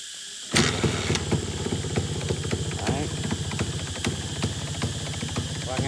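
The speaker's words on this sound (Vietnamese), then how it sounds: "em nổ máy cho các bác cùng nghe tiếng máy động cơ của cái chiếc xe Minkơ này" A two-stroke Minsk motorcycle engine starts and idles, with a steady, rapid popping putter that runs on loudly and close.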